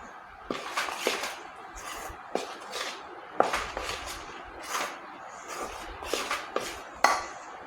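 Palm cake batter of wheat flour being mixed by hand in a metal bowl: repeated scraping and clinking strokes in a steady rhythm, close and moderately loud, with no talking.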